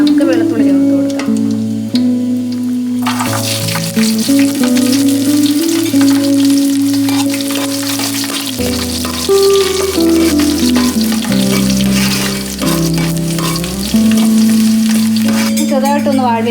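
Garlic and curry leaves frying in a pan for a Kerala village-style fish head curry give a steady sizzle, partly buried under continuous loud background music that runs throughout.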